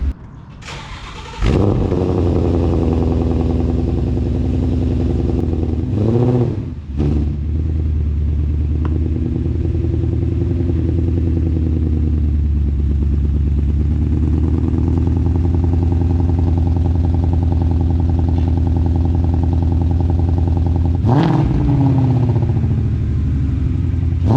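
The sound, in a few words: Mustang GT exhaust while driving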